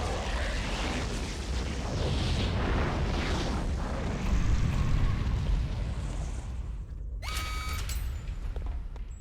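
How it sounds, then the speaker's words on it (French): A Roblox game explosion rumbles as a sustained, loud, heavy roar for several seconds, then cuts off abruptly, followed by a few sharp mechanical clicks. "Retournez au bunker avant l'explosion."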